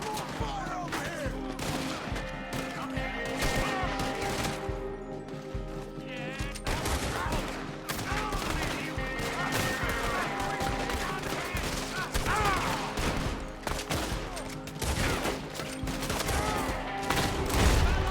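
Gunfire crackles through a shootout in the video game Red Dead Redemption 2, with dense bursts of shots, some near and sharp, others distant, layered over game ambience and music for the whole stretch.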